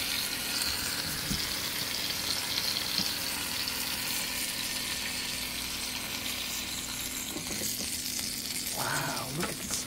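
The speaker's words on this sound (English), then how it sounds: "you hear it sizzling?" Sausages (hot dogs or bratwurst) sizzling in a churro maker, a steady crackling hiss that carries on throughout, with a brief clatter near the end.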